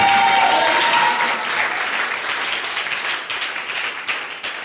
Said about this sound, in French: est-ce qu'on peut acclamer le Seigneur pour cette démonstration?